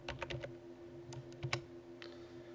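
Keyboard typing while renaming a layer in animation software: a quick run of crisp key clicks in short bursts, close and fairly quiet over a steady low hum, with no voices.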